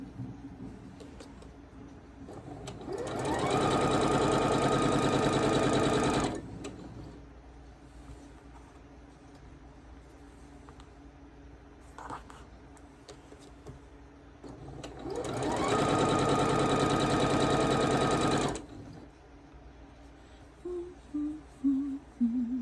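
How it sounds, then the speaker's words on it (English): A sewing machine sews quilt four-patch pieces onto background fabric in two sustained whirring runs of a few seconds each, close and steady, with quiet handling between. "So just sew each one to a background."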